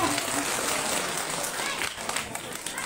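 Audience applause for a young child being honoured, a dense, steady burst of clapping lasting a few seconds.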